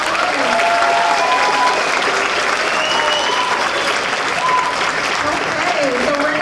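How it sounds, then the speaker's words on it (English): An audience at a pops concert applauds the soloists in a sustained, even round of clapping lasting several seconds, with voices and cheers faintly mixed into the crowd noise. "One more round of applause for all our soloists"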